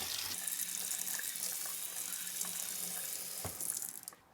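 A full water tap runs hard over a Vessi shoe held under the stream, giving a steady, close splashing gush that continues throughout and cuts off at the end.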